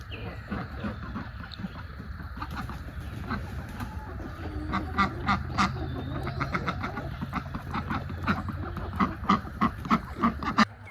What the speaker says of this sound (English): let the birds out, our chickens, and our ducks